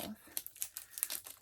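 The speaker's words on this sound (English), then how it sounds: "I'm just going to take the tape" Tape being peeled off a comic book, producing a quick series of close, faint crinkling and tearing crackles under a man's quiet speech.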